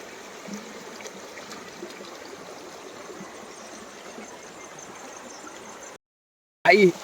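Floodwater of a swollen river rushes past a rural village in Odisha, a steady broadband wash that holds evenly, then drops out briefly before a short louder burst returns.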